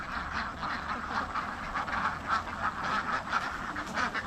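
Domestic ducks quack continuously as a flock is herded at Karuvatta, a dense, steady chorus of overlapping calls at moderate distance with no talk.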